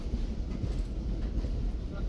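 Rehman Express passenger train running between Rohri and Hyderabad in Pakistan, heard from inside an AC standard coach as a steady low rumble with faint rhythmic wheel clatter and wind noise.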